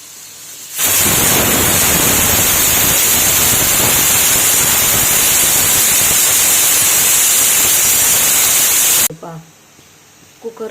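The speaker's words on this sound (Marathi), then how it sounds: "कुकरला 2 शिट्टी झालेली आहे।" A pressure cooker vents steam in a loud, steady, hissing blast that lasts about eight seconds, then cuts off abruptly, leaving faint kitchen noise.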